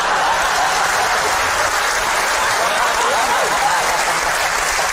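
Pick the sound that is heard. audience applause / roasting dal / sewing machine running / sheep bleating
audience applause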